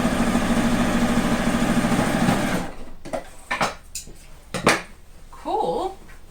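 A sewing machine stitching an upcycled patchwork quilt coat hums in a steady rapid rhythm for a couple of seconds, then stops, leaving scattered handling clatters and brief sounds afterward.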